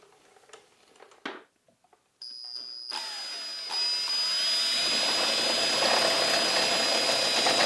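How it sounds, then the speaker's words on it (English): A power drill boring mounting holes for a fuel pump on a 6.0 Powerstroke truck, a steady loud high whine that starts after a few scattered clicks and knocks and runs continuously to the end. "I got a couple of holes to drill"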